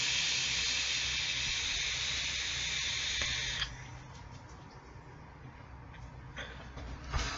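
Vaping on a SMOK TFV4 tank with the airflow nearly closed gives a steady, close, breathy hiss during a long draw that stops after a few seconds, followed by faint exhaling and quiet rustles.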